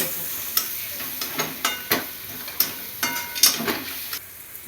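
Garam masala, chilli powder and turmeric are sautéed in a pan with softened onion and tomato, a spoon scraping and tapping the pan in a steady rhythm over a faint, constant sizzle.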